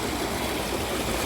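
Water flows steadily through stream channels at a picnic spot near Quetta where the flow splits into two canals, a loud, continuous rushing and gurgling close by with no voices.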